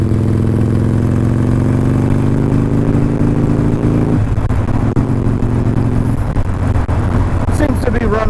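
Motorcycle with a Stage 1 upgrade, Vance and Hines FP3 fuel pack, riding on a cold, damp day; the engine drones loudly and steadily, its pitch shifting partway through.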